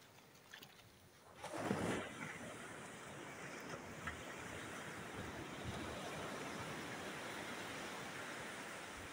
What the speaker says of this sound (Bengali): এখন ঢেউটা ভালোই আছে দেখছি, একদম দারুণ লাগছে